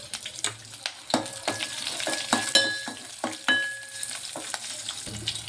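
Green chillies and curry leaves fry in hot oil with a steady close sizzle, broken by scraping stirs and a few sharp clinks of a spatula against the pan.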